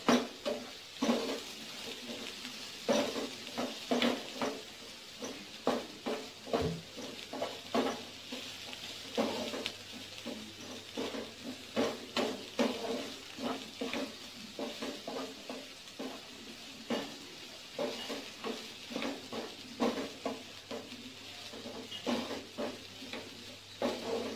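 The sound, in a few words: sautéing aromatics in a pan before adding smoked meat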